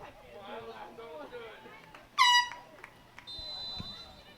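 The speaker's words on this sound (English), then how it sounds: "The dueling air horns." A single loud air horn blast rings out at a girls regional high school soccer playoff match, followed by a thinner, fainter tone, amid steady crowd murmur and talk.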